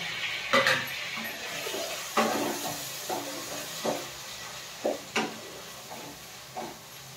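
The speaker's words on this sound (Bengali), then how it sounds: "রসুন আদাটা ভাজা হয়ে গেছে, এবার দেব টমেটো কুচি আর 4টে কাঁচা লঙ্কা চেরা।" Chopped tomato and four slit green chillies frying in a pan with already-fried garlic and ginger: a steady close hiss of sizzling oil, broken every second or so by sharp clinks of a spoon stirring against the pan.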